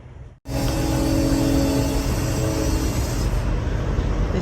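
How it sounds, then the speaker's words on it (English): A train passing in pitch darkness near a truck fuel stop, a loud continuous rumbling roar that sets in abruptly and holds steady throughout. "We got a train. I can't show it to you guys because it's pitch black, but you can hear it."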